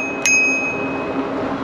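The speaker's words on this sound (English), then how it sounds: "I was ringing my bell when I go by" A single quick ding of an e-bike bell during a lakeside ride, ringing out clearly and then fading with a lingering metallic tone over steady wind noise.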